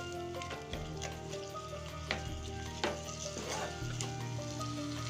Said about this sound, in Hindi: टमाटर को तब तक पकाएंगे जब तक ये अच्छे से सॉफ्ट नहीं हो जाते